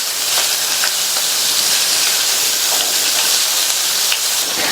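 Beetroot and fresh green peas sauté in a hot pan with a loud, steady sizzling hiss that stays even and close throughout, with no talking.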